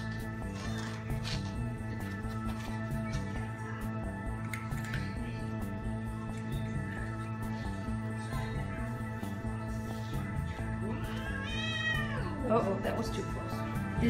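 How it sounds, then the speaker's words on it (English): A cat, one of several in a household with a feral Siamese, meows and caterwauls loudly near the end, rising and wavering, over a steady hum with quiet talk earlier. "I think she's the next cat I need to work on as far as getting along with Cersei"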